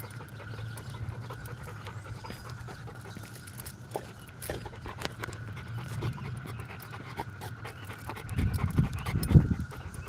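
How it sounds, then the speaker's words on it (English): A dog pants steadily and softly close by for about ten seconds, with a louder burst of breathing or movement near the end. "Soma's a good dog, though"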